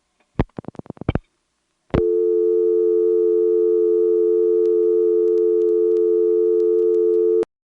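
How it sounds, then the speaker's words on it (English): A steady, loud telephone dial tone on a 1977 senderized XY step-by-step exchange in Lexington, SC, following a quick burst of rotary-dial clicks and a short silence, then cutting off abruptly. "that was just a regular old new dial tone"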